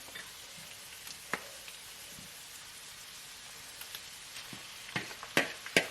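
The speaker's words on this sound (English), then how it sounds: "So when the celery is already sauteed with the onions, now I'm ready to add the turkey." Turkey hits a pan of sauteed celery and onions for a turkey Bolognese, a soft steady sizzle under scattered crisp pops that grow louder and closer toward the end.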